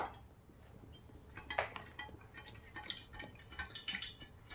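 Oil trickles into a metal pot with soft drips, joined by a few light clinks of utensils against the rim.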